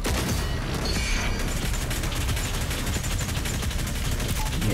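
Rapid gunfire from Doom Eternal rattles in a dense, continuous barrage, loud and close throughout with heavy low-end booms.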